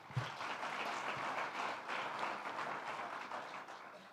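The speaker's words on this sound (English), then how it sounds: "Another round of applause for the ED." An audience at a Namibia–EU business forum gives a round of applause, a steady, even wash of many hands clapping, heard from a distance and fairly faint.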